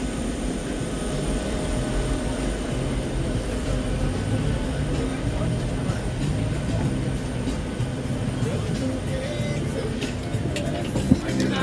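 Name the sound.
airplane cabin noise on a Southwest Airlines plane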